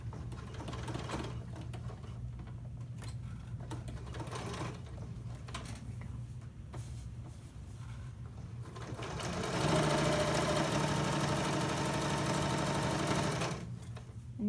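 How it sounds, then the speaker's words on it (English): Sewing machine stitching through a drawstring backpack seam, a steady rapid mechanical chatter that swells louder and faster for the last few seconds before stopping. The machine sounds close and there is no talk. "I'm going to stitch through the seam on the back"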